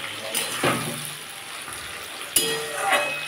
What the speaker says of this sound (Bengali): দেখুন বন্ধুরা সিমটা ভাজা হচ্ছে